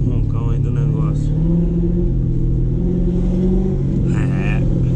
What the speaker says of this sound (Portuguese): Vocês ouviram o roncão aí do negócio.